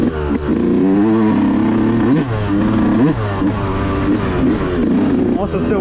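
A Yamaha YZ125 two-stroke dirt bike on a trail ride holds a loud, buzzy, close-up engine note that rises and falls as the throttle is blipped, with a rider talking over it.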